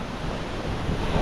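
A small waterfall among mountains in the Zanskar Valley of Ladakh pours with a constant rushing roar, loud and close, with broadband wind-like noise buffeting the microphone and no voices.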